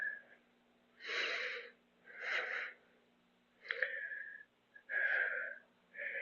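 Slow, deliberate breaths during a yoga session, long airy inhales and exhales alternating in a steady rhythm, close and soft with quiet pauses between.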